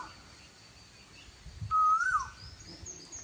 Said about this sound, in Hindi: कोयल की आवाज सुनो कितनी प्यारी लग रहा है।